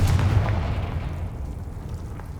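A Confringo fire spell explodes in Hogwarts Legacy, a single deep, loud boom at the start that rumbles and fades away over a couple of seconds, with no talking.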